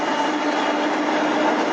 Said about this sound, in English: there's going to be a train going by me here.